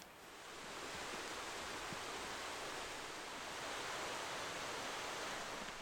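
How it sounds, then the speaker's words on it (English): Rainwater running hard down a slippery mountain trail makes a steady broadband rush, constant and fairly loud throughout, with no voices over it. "I don't know if you guys can hear it, but the water is just flowing today."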